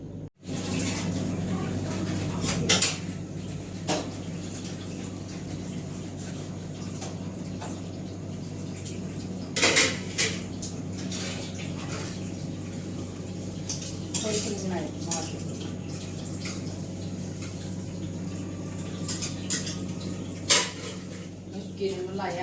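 Dishes and utensils being washed by hand, with intermittent sharp clanks of metal pots and cutlery over steady background noise, and people talking at times.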